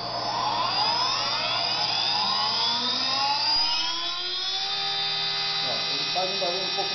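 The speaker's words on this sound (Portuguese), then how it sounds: "Eu vou ligar a máquina até para vocês verem o barulho, para vocês escutarem." A machine running after its bearing was replaced gives a loud, steady high whine whose tones slide up as it spins up, then settle into a constant drone near the microphone.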